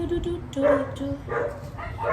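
Dog barking and yipping in short bursts close by, in an outdoor Jamaican setting, with people talking over it.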